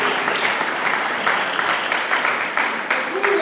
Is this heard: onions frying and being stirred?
no